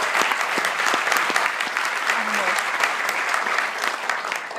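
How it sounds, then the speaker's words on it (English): Steady applause from a large audience, dense and continuous throughout, with a faint murmur of voices beneath the clapping. "So a round of applause for them being here for sure."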